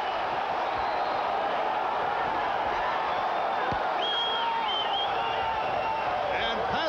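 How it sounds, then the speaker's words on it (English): A boxing crowd in Providence roars near the end of a 12th round. The noise is a dense, steady wash with scattered whoops, and commentary speech runs over it. "The crowd here in Providence roaring as Pazienza and Haugen move to the center of"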